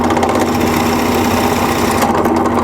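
A drill fitted with a 5/8-inch Forstner bit whirs loudly and continuously at a steady pitch as it bores into wood, with no pauses or voices.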